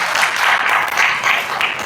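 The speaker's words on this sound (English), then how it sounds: "Let's appreciate them in a very big clap" An audience at a gathering gives a big round of applause for the event's founders and directors, loud, dense, continuous clapping with no voices over it.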